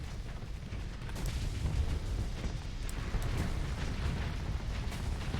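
Spaceship weapons firing automatically in Starsector, a low rumbling wash of muffled booms and pops with a few sharper cracks on top, steady and moderately loud, with no voices.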